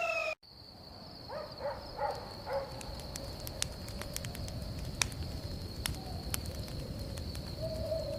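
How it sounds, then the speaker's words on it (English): Birdsong on a morning outside a home, with a few soft cooing or chirping calls early on, then a steady thin high tone and scattered faint chirps over a low background hiss. "Mandla awoke to the cheerful songs of birds outside her home"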